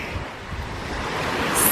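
Lake waves washing in steadily at a campsite, a continuous close wash mixed with wind noise on the microphone, growing slightly louder, with no voices.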